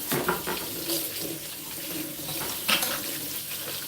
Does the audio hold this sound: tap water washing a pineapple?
yes